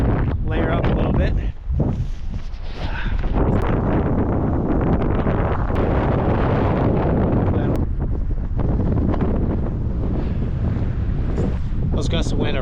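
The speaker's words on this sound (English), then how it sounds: "Those gusts of wind are pretty gnarly." Strong wind gusts buffet the microphone on a mountain trail in the snowy Eastern Sierras, a loud, continuous roar that surges and dips, with people talking under it.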